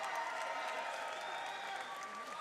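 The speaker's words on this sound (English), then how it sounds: "let's give both these kickboxers a big round of applause" Arena crowd applauding at a kickboxing event, steady dense clapping and cheering sustained throughout without a break.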